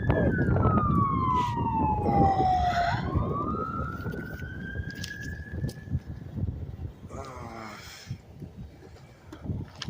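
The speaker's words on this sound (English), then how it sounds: "The ambulance is up here." An ambulance siren wails loud and steady as it approaches, sweeping down and back up in pitch over continuous road rumble and engine noise.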